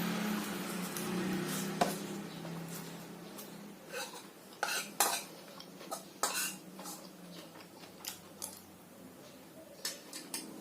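Chili, garlic and shallots are stir-fried in a pan with a soft sizzle underneath, while a utensil clatters against the metal in irregular sharp scrapes and taps.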